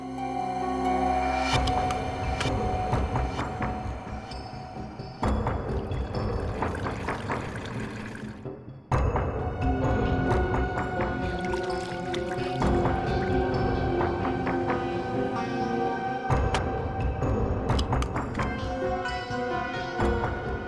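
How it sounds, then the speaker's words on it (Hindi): Water pours into a bottle to fill it during a police investigation scene in a crime drama. The pour is a steady, continuous flow heard under a loud, dense dramatic music score for about twenty seconds. "तो जरा इसमें पानी भर।"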